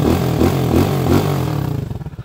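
A Microbike EXT 125 motorcycle converted to 200cc revs hard and close, its engine roar rising in a few surging pulses before settling into a lumpy, rhythmic idle.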